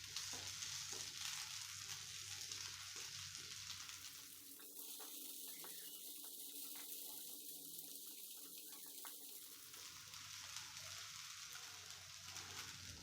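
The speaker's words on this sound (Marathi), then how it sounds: "तेल लावून झाल्यावर आता हे सगळे असे पलटी करून घ्यायचे." Sabudana potato appe fry in oil in an appe pan, a soft, low sizzle that thins in the middle while the pieces are turned, then returns to a gentle steady crackle.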